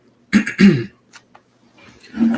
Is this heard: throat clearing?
yes